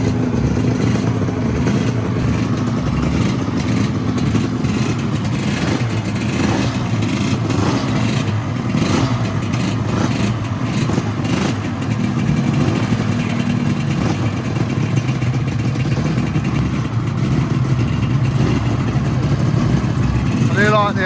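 Several Yamaha LC two-stroke motorcycles at a club bike night rev and rattle continuously at close range, engines buzzing and revving over one another while a voice talks underneath throughout.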